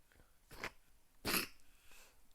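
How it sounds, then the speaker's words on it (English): Two short, sharp coughs from a person, close and fairly loud, with a brief pause between them and no talking. "Sorry about the cough, guys."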